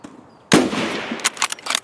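A rifle shot in the shooter game Escape From Tarkov: a single sharp loud crack followed by a rolling echoing tail and a few fainter sharp reports.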